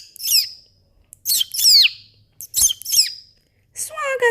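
Parrot calls in a children's story about two parrots: several sharp chirps and downward-sliding whistles in short bursts with silent gaps between them. The calls end in a brief, voice-like squawk.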